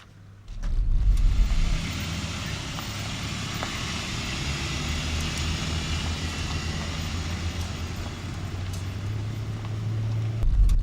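Cars drive along an outback road, a steady engine and tyre drone that rises early on and holds at a fairly even level to the end.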